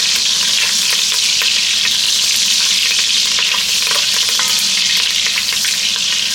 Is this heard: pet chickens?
no